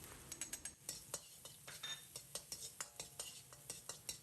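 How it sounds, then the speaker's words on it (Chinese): Garlic and chili stir-fried in hot oil in a wok, a metal spatula scraping and clinking in a steady rhythm of about three strokes a second over a faint sizzle, close and fairly quiet. "另起锅放少许油，油热以后放蒜末、小米辣，"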